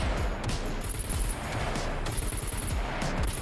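Sustained automatic gunfire at a dropship in SCUM, dense rapid bursts with sharp high crackle, loud and close, nearly continuous with brief breaks.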